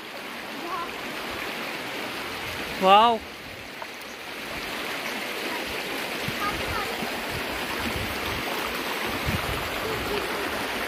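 River water rushing and swirling in a mountain stream, a steady broadband flow throughout with a brief chirpy sound near the start and a short exclamation from a voice.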